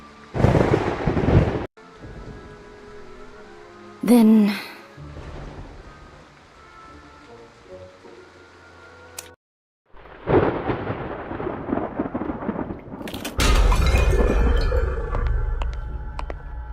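A stormy night thunderstorm with rain in the game Identity V. Loud bursts of thunder crash and rumble several times, separated by quieter stretches, ending in a sustained heavy roar.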